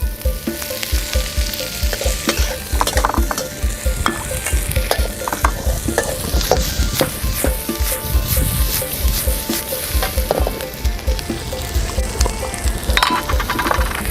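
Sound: pork sausage (moo yor) frying in a pan

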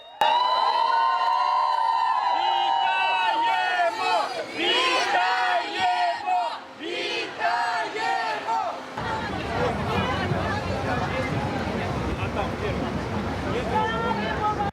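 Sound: crowd cheering as buses of freed prisoners arrive at hospital

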